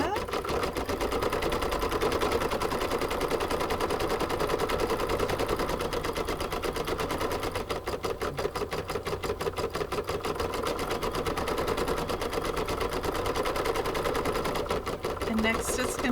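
An embroidery machine stitching a bee coaster in the hoop, a loud rapid mechanical clatter running continuously at a steady fast rhythm, close by, with a voice speaking over it.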